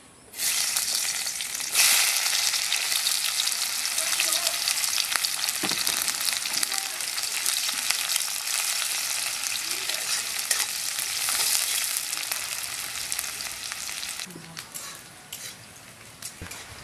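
Chopped onions dropped into hot oil, a loud, dense sizzle that bursts in near the start and hisses on steadily for the length of the clip before easing slightly toward the end, close up with no speech.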